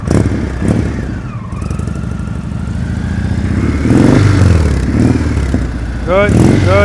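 A motorcycle engine runs at low speed after a smooth stop at a slow-speed riding practice session, with a rough, uneven rumble that swells slightly toward the end while people talk over it.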